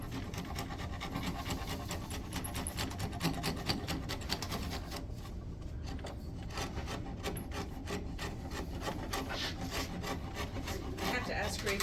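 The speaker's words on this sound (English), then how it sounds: "if you want to go slow, you just come in here and use sandpaper" Sandpaper rubs against a sculpted wooden chair in steady, rapid back-and-forth strokes, a close, continuous scratchy rasp lasting throughout.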